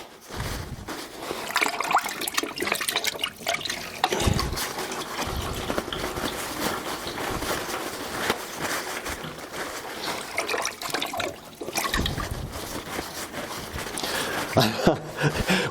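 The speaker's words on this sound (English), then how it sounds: "I'm really going to wad this in here, and we're going to plug this toilet right up." A toilet stuffed with a wad of toilet paper flushes, its water rushing and gurgling in a long, turbulent, steady wash with a few brief dips, close by under some talk.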